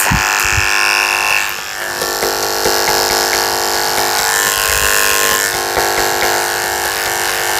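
Electric clippers fitted with a number 7 blade buzz steadily while trimming a toy poodle's face, the motor hum briefly dipping as the blade moves, close and loud with no talking.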